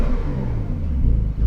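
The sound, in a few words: Porsche 911 Carrera S sport exhaust revving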